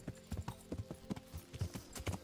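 Horse hooves clip-clop in a video game, a quick, even trot of close, soft thuds repeating through the whole stretch with no talk over them.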